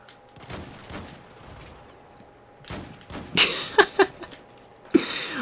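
A .44 Magnum revolver fires in Battlefield 4, a cluster of sharp, punchy shots in quick succession followed by one more, with quieter game noise and a faint voice before them.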